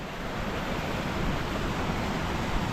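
Steady, dense roar of rushing water at the top of a waterfall on a fell-side gill, loud and unbroken with no voices.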